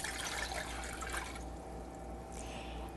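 Water running into a big pot to make brine for an Irish-style dish in a home kitchen, a steady close pouring rush that thins out partway through, with no voices.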